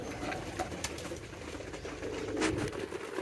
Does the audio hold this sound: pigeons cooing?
yes